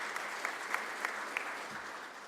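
A crowd at a mayor's press conference for a police youth league event gives steady, fairly quiet applause. The clapping sounds somewhat distant and holds an even level throughout.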